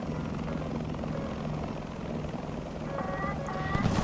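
A Tiger UHT helicopter in War Thunder gameplay thrums with a continuous rotor and engine drone, steady and fairly loud, with brief tonal beeps and a rising burst of noise near the end.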